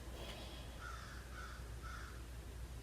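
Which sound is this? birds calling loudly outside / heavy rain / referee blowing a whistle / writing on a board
birds calling loudly outside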